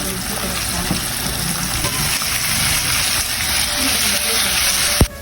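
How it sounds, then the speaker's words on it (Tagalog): Chicken feet deep-frying in hot oil as a second batch goes in, a steady broadband sizzle and bubbling running throughout at a close, even level, with a brief sharp knock near the end. "Magsalang na tayo ng pangalawang salang."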